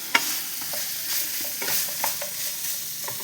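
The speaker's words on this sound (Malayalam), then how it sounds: "ഇതെല്ലാം ഒന്ന് ആദ്യം ഒന്ന് മിക്സ് ആക്കണം" Dry chilli chicken ingredients being stirred and mixed in a frying pan over high flame, with repeated scraping strokes of a spoon against the pan over a steady soft sizzle, close and alone.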